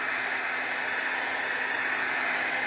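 Steady hiss and whir of a heat dryer drying a stamped craft card, a constant close airflow roar held without pause, with no talk over it.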